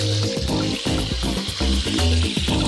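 Pork and fennel sausages fry in oil, giving a steady, close sizzle and crackle with brief stirring or shifting sounds.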